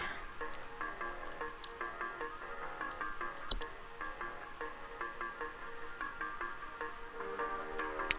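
Water dripping in a damp video game cellar, a continuous patter of small wet drips and squishy plinks at varied pitches, faint and steady throughout, with no voices.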